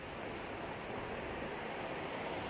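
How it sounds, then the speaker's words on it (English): Ocean surf rolling in at low tide on the Southern California coast, a steady broadband wash of breaking water with no distinct individual wave crashes and no voices. "So that's the ocean, huh? Yeah, it's low tide."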